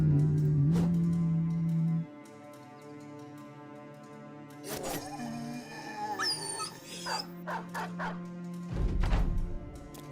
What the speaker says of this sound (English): Freaking dogs just lunging at ghosts.